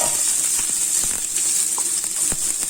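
Onions and peppers for fajitas sizzle steadily in a hot pan, a dense hiss running throughout with a few soft clicks and scrapes from stirring.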